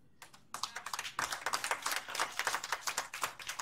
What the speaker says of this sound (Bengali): এই হাততালি